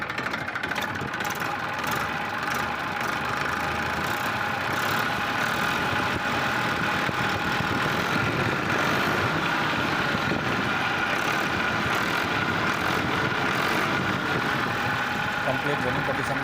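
A Massey Ferguson 241 DI tractor in full running condition runs its engine at a steady idle, a continuous mid-to-low rumble that stays even throughout while someone talks over it.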